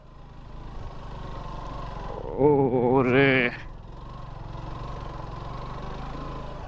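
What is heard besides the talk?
motorcycle climbing dusty hill road with pillion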